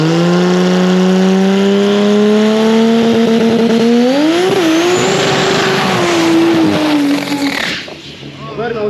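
Engine revving hard in a video game car racing game during a burnout, with a loud sustained engine tone rising and falling and tire squeal over about eight seconds before it cuts off.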